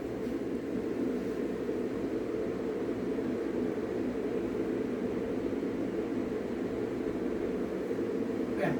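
Aircraft engine in the video game Stormworks: a steady, loud droning hum with a constant low rumble that runs unbroken throughout, with no talking over it.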